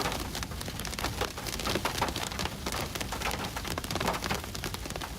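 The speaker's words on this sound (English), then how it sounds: "So you can hear some of that hail hitting their car now." Hail pelting a car during a severe thunderstorm, a dense steady clatter of rapid hard impacts on the vehicle body sounding close and loud throughout, with no talk.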